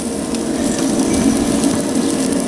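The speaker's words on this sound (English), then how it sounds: "these pork chops will be done in no time. I mean, they're close enough for a nice sear" Pork chops sear over burning charcoal in a PID-controlled pellet grill, a continuous, fairly loud crackling sizzle with a steady underlying roar and no speech.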